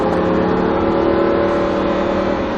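A Lamborghini Huracan 2WD roars loudly and close on a race track at Speed Vegas, its engine holding a steady, sustained drone under hard acceleration.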